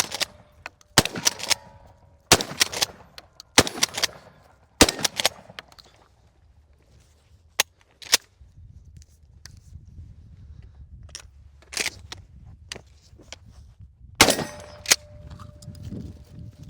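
A shotgun fires slug rounds at a steel target outdoors, with about a dozen loud, sharp reports spaced a second or more apart, several followed by metallic clangs of the struck plate, and quieter handling noise between shots.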